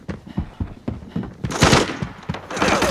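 Gunfire in the shooter video game Arena Breakout on the Northridge map: a series of sharp shots, some single and some in rapid bursts, growing louder and denser partway through.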